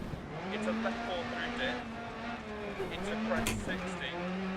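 A Polo WRC rally car engine holds a steady high drone on the snowy stages of DiRT Rally in Sweden, pitch dipping and climbing through gear changes beneath continuous commentary.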